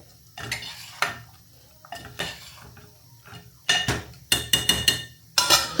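Eggplant and potato curry being mixed in a pot, with sharp metal spoon clatters and scrapes arriving in bursts, sparse at first and then quicker and louder toward the end.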